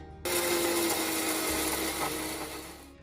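A mixer grinder crushes roasted spice masala for South Indian tamarind rice, a loud, steady whirring grind that starts abruptly and runs continuously for a few seconds before cutting out.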